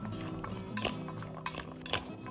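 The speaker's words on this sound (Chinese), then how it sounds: "用筷子慢慢的翻拌均匀" Chopsticks toss and stir green beans seasoned with salt and a little vegetable oil in a bowl, giving soft clinks and light taps against the bowl's rim at an unhurried pace.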